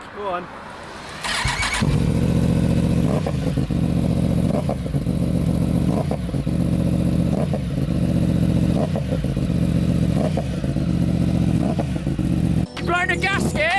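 A loud motorcycle engine starts up and settles into a steady, rumbling run with repeated throttle blips; a voice speaks briefly over it.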